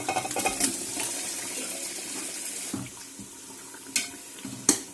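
Chicken pieces meet masala paste in a hot pan for a restaurant-style reshmi chicken, giving a soft, continuous sizzle with wet splashy bursts and a couple of sharp clatters near the end; no voices.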